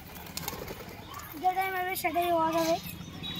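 Pigeons at a home loft coo in a couple of drawn-out rolling calls, close and clear over background noise and faint activity.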